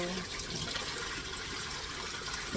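A crab scrubbed under running water with a new scrub pad, the steady rush of the tap spraying continuously with splashing bursts close by.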